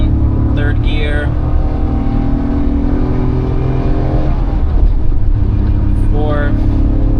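A turbocharged Daihatsu Move kei car accelerating hard at full throttle in third gear after a turn, its engine droning and climbing steadily from close inside the cabin, with someone talking over it.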